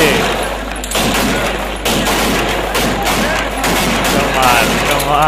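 Guns fire continuously at a Pakistani wedding, a dense wash of overlapping shots played back from a recording, with someone talking over the noise throughout.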